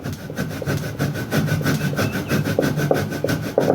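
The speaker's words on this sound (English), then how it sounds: "So I'm going to grate on my bread." Bread being grated into breadcrumbs for a Jamaican scrambled egg burger, a steady rasping scrape repeated in quick back-and-forth strokes, close and fairly loud throughout with no talking.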